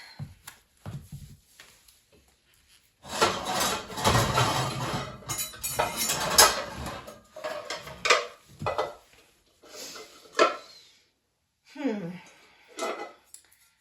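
Metal pans clatter and clink as they are handled and shifted about in a kitchen during a clear-out, in bursts of knocks and scrapes with pauses between, close and fairly loud.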